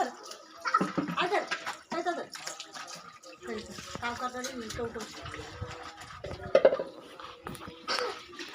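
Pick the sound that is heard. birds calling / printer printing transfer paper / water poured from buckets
water poured from buckets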